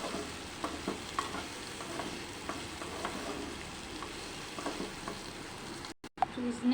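Already-fried prawns are stir-fried in a pan, giving a faint, continuous sizzle with light stirring taps, and the sound cuts out briefly near the end.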